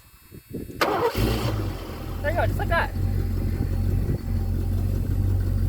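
A 1984 Ford Mustang GT350 engine cranks and catches, revs briefly, then settles into a steady low idle while someone talks nearby.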